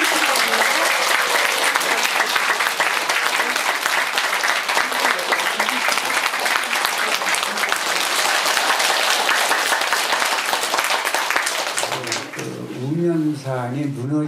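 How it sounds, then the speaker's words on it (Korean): An audience at a public culture lecture gives sustained, dense applause welcoming an author to the stage, loud and steady for about twelve seconds before it dies away as a voice begins speaking. "큰 박수로 환영해 주시기 바랍니다."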